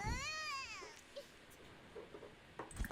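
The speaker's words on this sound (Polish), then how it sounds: "dziecko płacze" Simulated infant crying from The Sims 4 video game: one short, wavering wail that falls away after about a second, followed by faint scattered game sounds.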